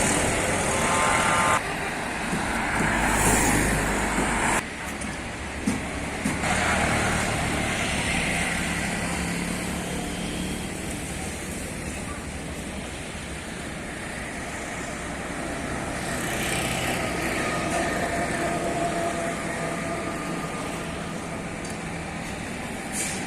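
Road traffic on the Kautiri road to Brahmanbaria, Bangladesh, a steady broadband wash of passing vehicles with engine rumble swelling and fading, one louder vehicle passing near the start and no talk.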